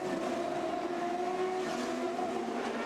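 CART race cars at the 2002 Australian round run under caution on a drying wet track, a steady, loud engine drone with a sustained tonal whine holding throughout, no voices.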